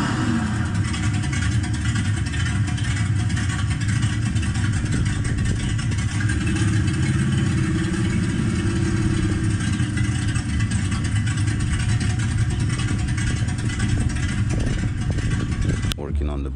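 The Batpod vehicle driving forward, giving a loud, steady engine and motor drone that runs without break for the whole stretch, close up, ending in a sharp click.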